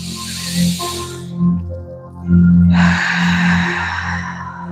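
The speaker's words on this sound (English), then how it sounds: "Take 4 breaths" Deep breathing during a live release-and-recovery deep stretch session: a few audible gasping inhales and hissing exhales over a low hum, the last breath loudest and longest.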